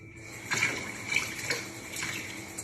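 Cold water is poured into a vinegar mixture in a measuring cup, a short steady splashing trickle, close and clear with no talking.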